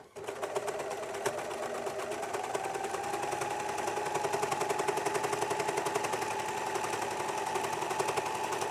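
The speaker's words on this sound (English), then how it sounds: "The 664 Pro, the overlocker Jules is using at the moment." A 664 Pro overlocker runs steadily, rapidly stitching and trimming the edge of culottes fabric, a close, continuous mechanical whirr with fine rhythmic ticking throughout.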